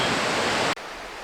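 Clear creek water rushes steadily near a waterfall, a loud broadband wash that cuts off abruptly partway through, leaving only faint background.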